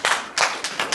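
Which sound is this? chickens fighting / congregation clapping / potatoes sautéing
congregation clapping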